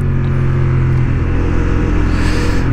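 A Honda Hornet 750 motorcycle pulls in third gear on a racing track, its engine holding a loud, close, continuous roar that builds slightly in pitch as it accelerates.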